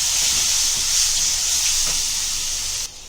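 Chili, ginger-garlic paste and masala sizzle loudly in hot oil as they are sautéed for chicken malai tikka masala, a steady bright hiss that holds close and constant before dropping slightly at the end.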